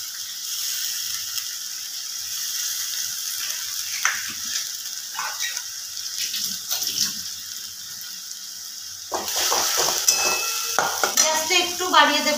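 Cumin and green chili paste fry in hot oil with egg for a Bengali egg curry, giving a thin crackle with scattered ticks. The spitting grows busier and louder toward the end.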